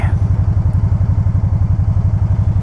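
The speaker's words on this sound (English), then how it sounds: "It's a new three-wheeled motorcycle." A new Can-Am three-wheeled on- and off-road motorcycle runs its engine, producing a loud, steady, rapid low throb as it idles close by.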